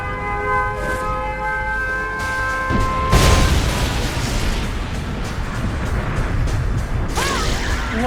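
A nuclear missile detonates in the Yuri's Revenge strategy game: tonal beeps and a brief chime give way to a loud, sustained roaring blast that fills the rest of the clip, with a short whooshing flourish near the end.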